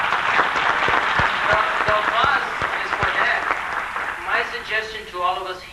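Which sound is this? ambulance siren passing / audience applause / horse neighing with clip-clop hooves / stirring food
audience applause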